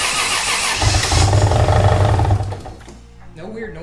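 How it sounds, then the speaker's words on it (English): A Toyota 1JZ engine swapped into a Nissan S14 runs with a low, uneven burble reminiscent of a Subaru flat-four, steady and close, then dropping off near the end as a voice speaks over it. "No weird noises, but it sounds like a Subaru."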